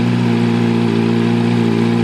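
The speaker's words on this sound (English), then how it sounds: "Let it warm up. It's below plus 10, and I know the bike doesn't run well below plus 10." A motorcycle engine warms up in cold weather below plus 10 degrees. It idles steadily and loudly close by, with an even, throbbing hum and no talking.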